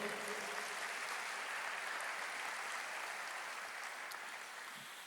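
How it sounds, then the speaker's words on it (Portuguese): A church congregation applauds steadily at a worship service, a dense, even wash of clapping that holds for several seconds and tapers slightly at the end, with no speech over it. "aplauda ao Senhor"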